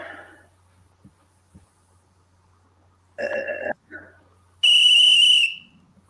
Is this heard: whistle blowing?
yes